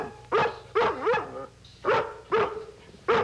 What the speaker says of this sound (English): What's she barking?